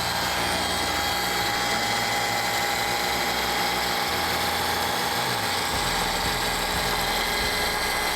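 An electric car paint polisher runs steadily on a painted panel during scratch removal, a constant loud motor whine and hum with slight wobbling in the low drone.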